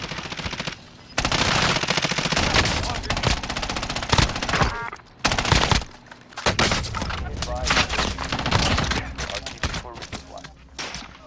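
Dense automatic gunfire in Call of Duty Warzone, with rapid bursts and sustained volleys that are loud and close, broken by brief gaps, while a voice talks over parts of the action.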